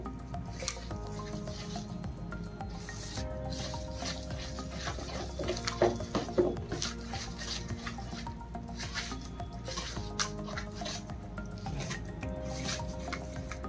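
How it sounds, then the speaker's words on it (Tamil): Powdered sugar, ghee and a pinch of baking powder are worked together by hand into biscuit dough, making quiet, close squishing and rubbing sounds in an irregular rhythm. "இதை நம்ம நல்லா சுகர் பவுடரும் கீயும் நல்லா மிக்ஸ் பண்ணிக்கணும்"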